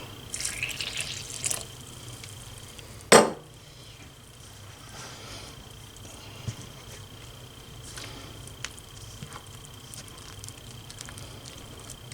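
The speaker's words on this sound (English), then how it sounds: "I'll go ahead and just add the rest of that water." Water splashes from a tap, followed by a sharp pour into bread dough, then quiet drips and faint kitchen sounds.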